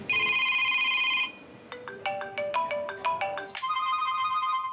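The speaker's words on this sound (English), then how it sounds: "That's the office phone." An office telephone rings with bright electronic ringtone bursts: a sustained ring, a quick run of rhythmic chirps, then another sustained ring, loud and close with no talk.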